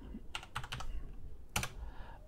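Brief clusters of computer keyboard keystrokes as a command is typed at a command prompt, with a couple of quick bursts early on and a sharper one later, close and clear with no talk.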